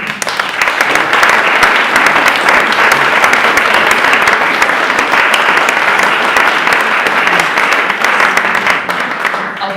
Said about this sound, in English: I'll take that applause for my dad.